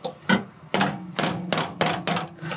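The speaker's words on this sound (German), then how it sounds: "Ich hol mir mal einen Hammer" A hammer strikes metal while someone works on a wood-burning stove: six sharp, resonant blows at a fairly even pace, close and loud, with no talking between them.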